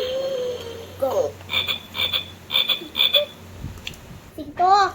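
A frog croaks in a run of repeated, evenly spaced rasping pulses, close and clear, with brief voices just before and after.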